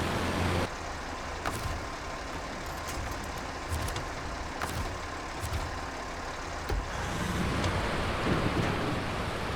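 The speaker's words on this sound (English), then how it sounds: "I hook the trucks together for a road train to the farm." Western Star trucks hitched together as a road train rumble along a paved highway in SnowRunner, a dense, steady engine drone with scattered sharp clicks and knocks and a slight swell near the end.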